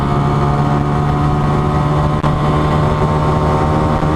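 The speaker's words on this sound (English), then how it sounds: "Dropping the clutch in first gear. First gear, 28 miles an hour." A 2019 Honda Monkey motorcycle engine pulling in first gear, a loud, steady, close drone with a strong low hum and almost no change in pitch, heard alone with no talking.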